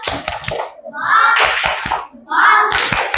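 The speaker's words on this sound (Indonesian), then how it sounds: "Kelompok 2. Tepuk jempol." Schoolchildren in a group do a rhythmic thumb clap for their classmates, bursts of quick patting claps in short patterned phrases, close and fairly loud, with children's voices mixed in between.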